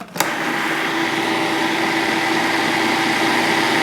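A food processor purees garlic scape pesto, starting with a sharp click and then running as a loud, steady whirring motor hum close by for the rest of the clip, with no talking.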